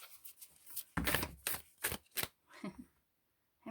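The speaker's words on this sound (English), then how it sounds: "So for me, I'd probably shuffle this deck like this." Deck of animal oracle cards shuffled by hand: a few quick papery riffles and flicks in close bursts, then a brief quiet pause.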